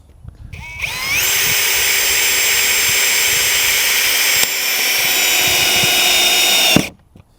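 A power drill spins a screw held by a magnetic screw ring, a loud high whine that starts abruptly, runs steadily for about six seconds with a brief dip midway, then cuts off.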